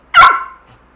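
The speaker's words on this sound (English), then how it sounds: "My dog's getting kind of barky." A pet dog named Milo lets out one sharp, loud bark close by, which then trails off into silence.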